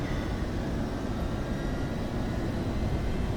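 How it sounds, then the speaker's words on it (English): Boeing 737-200 jet engine spooling up in the Prepar3D flight simulator, a steady, even broadband roar that holds at constant loudness throughout with no voices. "Alright, number 2 started up beautifully."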